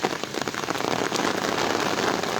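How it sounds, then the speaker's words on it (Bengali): Heavy monsoon rain falls in Comilla, Bangladesh, pattering densely and evenly on surfaces nearby in a continuous close hiss, with no talking. "এখনো বৃষ্টি হচ্ছে।"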